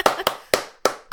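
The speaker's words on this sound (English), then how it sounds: "join me in giving Christopher Bond of Baby Beard Media a manly round of applause for recommending Mr. Nanny of the Universe," A few slow, isolated hand claps, five sharp close strikes spaced irregularly in a quiet room, more like a small group or single person than a full crowd.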